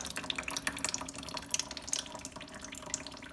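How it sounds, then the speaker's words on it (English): Oil mixed with alcohol drains from a Briggs and Stratton engine on a blown junior dragster, a steady trickling, splattering flow close by with small irregular spatters, heard alone without talk. "Drain the oil. Eewee. Oh, now we're getting the oil."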